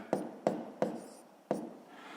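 Numbers written by hand for column multiplication, four short close pen strokes on paper with brief pauses between them, quiet and alone.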